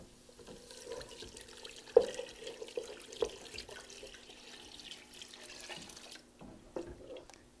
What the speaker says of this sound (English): I'm going to go ahead and pour in my chicken broth.